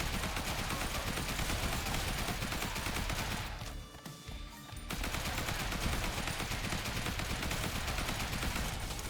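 Rapid, sustained assault rifle fire in the zombie shooter Zombie Survivors rattles on loudly and continuously, breaking off for about a second midway before resuming at the same steady, dense pace.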